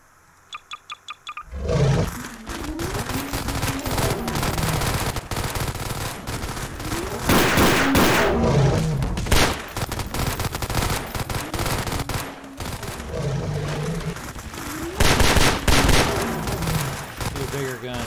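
Rapid bursts of automatic gunfire in Garry's Mod, loud and sustained with dense volleys and brief pauses, following a few sharp single shots at the start, with a voice speaking intermittently over the shooting.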